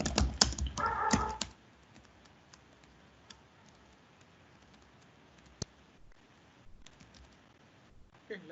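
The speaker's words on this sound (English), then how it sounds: "In this file I am typing something." Typing on a computer keyboard while creating a text file during shell programming work: a dense, close burst of rapid keystrokes at first, then sparse, faint isolated clicks with quiet gaps between them.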